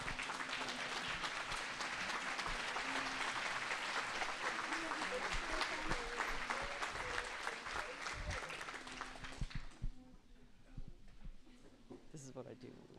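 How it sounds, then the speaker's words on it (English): Audience members at a water summit stand and applaud, a dense round of clapping with some voices mixed in that fades out quickly, leaving scattered claps and murmurs. "I think you guys should stand up and clap. They deserve a round of applause."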